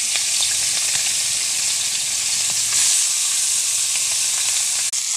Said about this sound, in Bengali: কড়াইতে পুঁটি মাছ ভাজা হচ্ছে